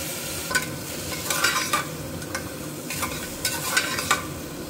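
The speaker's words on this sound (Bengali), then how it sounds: "একটু ফ্রাই করে নেব।" Ginger paste with cumin and coriander powder frying in a pan, a soft steady sizzle with a few brief stirring scrapes over several seconds.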